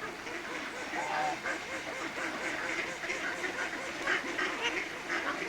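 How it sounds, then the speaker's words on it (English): Ducks quacking continuously around a pond at Stanley Park, a dense overlapping chorus of calls at moderate distance, with people talking faintly in the background. "There's so many ducks you can't tell one from the other."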